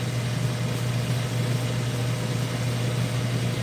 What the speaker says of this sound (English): The noise you hear in the background is my air fryer booming up.